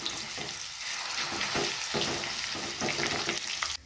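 Garlic paste sizzles and fries in a pan with roasted cumin, a steady close crackling hiss broken by the scrape and swish of stirring at intervals.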